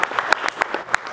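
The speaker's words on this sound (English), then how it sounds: "give Jacques another round of applause" A brief round of applause at Startup Weekend Orlando 2022, with a handful of distinct claps in a quick, irregular burst.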